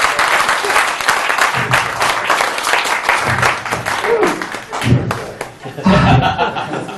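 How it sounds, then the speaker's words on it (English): Loud, close audience applause for volunteers at a stage hypnosis show, sustained clapping from a crowd with chuckles and laughter rising through it. "Give these guys a round of applause for being brave enough to come over."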